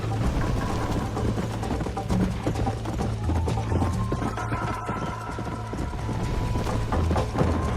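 Horse galloping in a race in the Red Dead Redemption video game on Xbox 360: rapid, rhythmic hoofbeats drum steadily throughout over a constant low background hum, fairly quiet, with no talk.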